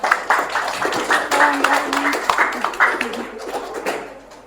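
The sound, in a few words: class clapping hands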